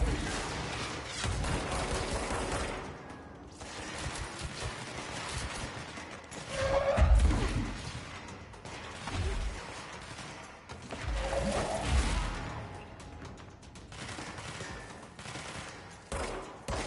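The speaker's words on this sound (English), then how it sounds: "Who's shooting at me?" Gunfire and blasts in the video game Control, repeated bursts of shots and heavy impacts recurring throughout, loud and close, with no talking.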